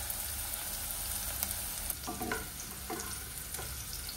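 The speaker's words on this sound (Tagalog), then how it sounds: "So, tustahin lang natin yung sibuyas, bawang." Onion and garlic sauté in a pan with a steady sizzle, broken by scraping and stirring from a utensil and a few sharper clatters partway through.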